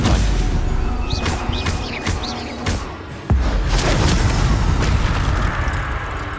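Stupefy spell cast in battle in Hogwarts Legacy, a loud magical burst with sharp pops and booming impacts amid busy combat effects, with one sudden hit midway.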